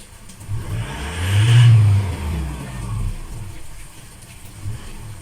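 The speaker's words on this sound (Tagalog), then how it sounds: "Kasi binirit na yung makina" A 2016 Isuzu MU-X engine with a busted turbo actuator revs up to a peak and then settles back to a lower rumble, steady and fairly close.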